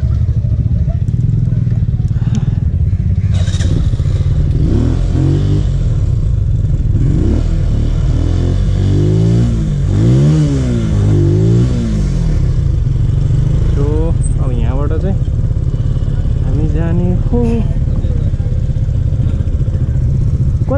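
Motorcycles on a group ride, including a Benelli TNT 135, roll by with loud engine drone and rising revs, passing close amid heavy wind and road noise while people talk over them.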